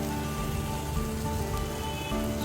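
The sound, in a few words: frying onion, ginger, chili and carrot for fried rice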